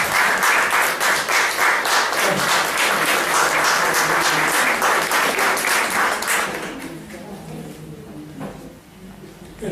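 Audience applause at a psychoanalysis conference, dense and steady clapping filling the room for about six seconds before thinning into scattered claps and quieter room noise.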